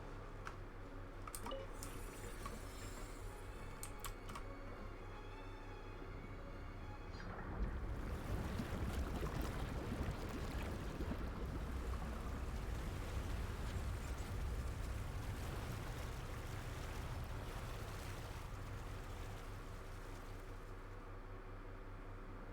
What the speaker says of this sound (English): The water level is rising.